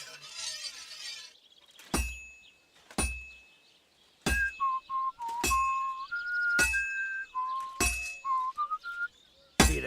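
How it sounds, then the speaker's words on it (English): A hammer striking a heated sword on an anvil in a video game, a series of sharp metallic clinks at irregular intervals, each leaving a ringing tone, joined by whistling tonal game sounds. "Now take the hammer and try hitting it a few times."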